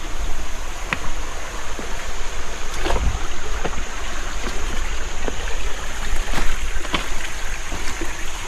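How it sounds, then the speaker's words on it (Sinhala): Steady flowing water of a forest stream near its source on Hiniduma Kanda in Sri Lanka at dusk, a constant close rush with scattered splashes and insect buzz above it. "මෙතන තියෙන්නේ වතුර වල සද්ද විතරයි"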